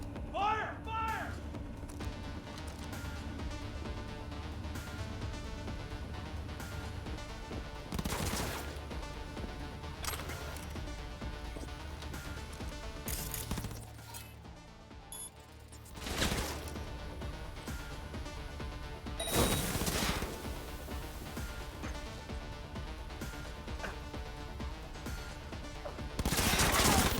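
Gunfire rattles through a firefight in the video game Cyberpunk 2077, with loud broadband bursts recurring every few seconds over a dense, steady game soundscape while a voice talks.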